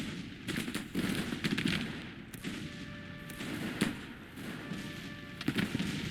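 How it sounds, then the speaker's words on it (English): Musket volleys from several brigades in the Civil War strategy game Grand Tactician, heard as a dense, ongoing crackle of distant gunfire with repeated pops and thuds. A faint tonal hum runs underneath. "Now we're starting to get just heavy fire on them."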